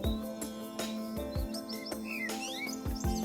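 Several birds chirp and sing in short, bright tweets and rising whistles scattered over a soft background, with a few sharp clicks or taps and insect-like buzz beneath, fairly quiet and close.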